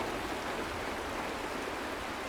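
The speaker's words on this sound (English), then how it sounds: "It is raining!" Steady rain falls in Honkai: Star Rail, a dense, even hiss of water that holds at one level throughout with no voices over it.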